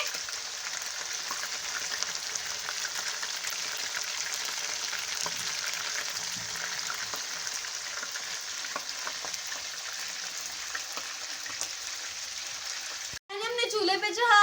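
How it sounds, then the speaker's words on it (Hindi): Chicken pieces fry in oil in a pan for bhindi gosht, a long steady close sizzle with fine crackle throughout, cut off abruptly near the end as a voice begins speaking. "चिकन हमारा फ्राई हो रहा है"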